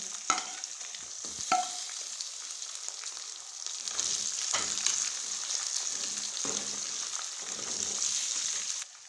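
Chicken pieces fry in a pan with browned onion and ginger-garlic paste, giving a steady close sizzle with intermittent scraping stirs and clinks of the spoon against the pan.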